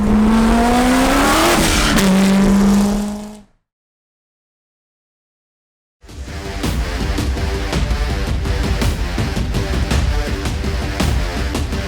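A supercharged car engine revs hard with a rising whine, cuts out briefly, then returns as a sustained roar with squealing tires.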